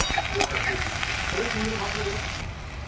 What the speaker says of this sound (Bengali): আলু উচ্ছেটা হালকা করে ভেজে নেব